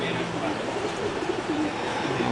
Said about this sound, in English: There's a single flying bird just zipping back and forth. Looks like it's a homer.